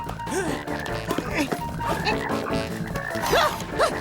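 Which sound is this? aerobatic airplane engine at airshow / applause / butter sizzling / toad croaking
toad croaking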